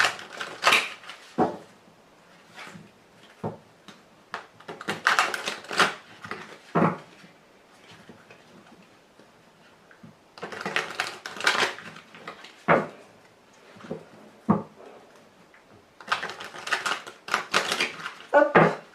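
Tarot cards shuffled and cut in repeated bursts of crisp riffling and slapping clicks, close and sharp, separated by short quiet gaps with no talking.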